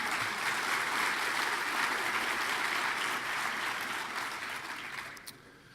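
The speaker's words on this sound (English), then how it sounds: "Please clap if you believe in that." An audience at a children's foundation forum applauds in a steady, even wash of clapping that fades near the end.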